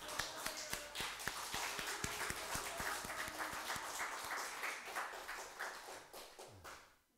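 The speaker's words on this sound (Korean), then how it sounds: "다시는 아프지 말라고 격려의 박수 드리겠습니다" A room full of people in a church claps together, steady and sustained for several seconds before fading out, with a few sharper claps standing out.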